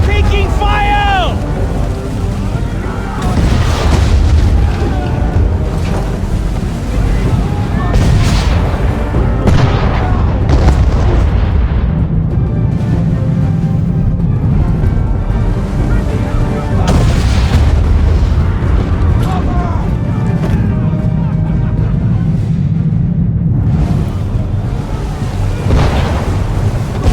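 Naval cannons boom repeatedly throughout a sea battle in Assassin's Creed 3 Remastered, heavy and continuous, with water, ship noise and voices shouting over the bombardment.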